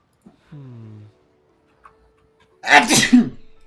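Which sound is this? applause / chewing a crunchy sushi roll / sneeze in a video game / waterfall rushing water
sneeze in a video game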